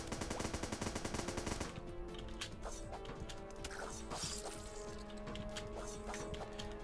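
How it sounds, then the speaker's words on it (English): Rapid gunfire in the 2D space sandbox game Starbound, a dense burst of repeated shots for under two seconds, then scattered impact and weapon blasts continuing at moderate loudness, with no talk. "Look, just let me shoot this guy."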